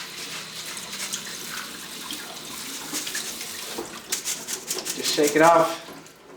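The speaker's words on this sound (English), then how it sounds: "now that we got our rice rinsed" Rice rinsing under a running kitchen faucet gives a steady broadband water rush throughout, with rougher splashing near the end as the rice is shaken, under a voice speaking.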